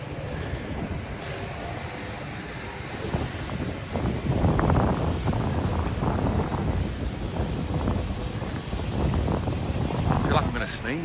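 Wind buffets the microphone in loud, gusty rumbles throughout at a building site, swelling stronger in the second half, with no clear speech over it.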